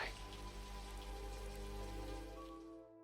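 Steady rain falls through the night in the tears in rain scene of Blade Runner (1982), a soft, even patter under low sustained music tones that fade away at the end.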